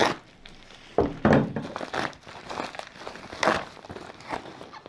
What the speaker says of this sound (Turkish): Şuradan kenardan yırtıyorum.